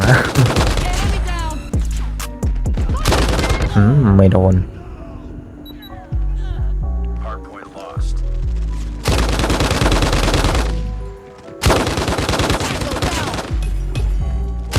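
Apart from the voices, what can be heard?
RAAL MG machine gun firing in video game Call of Duty Mobile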